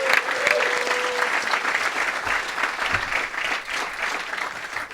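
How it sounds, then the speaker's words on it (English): A comedy club audience at the Comedy Cellar in New York City's West Village applauds, with dense, steady clapping and a few cheers filling all five seconds at close range. "so give yourselves a round of applause."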